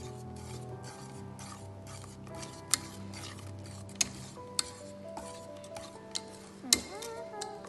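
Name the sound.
mixing mascarpone cheese in a bowl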